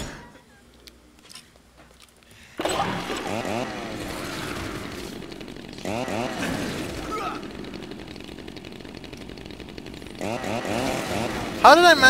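A chainsaw in the zombie action game Dead Rising 2 revs loudly and keeps running in bursts for several seconds, with brief dips between revs and a voice talking over it.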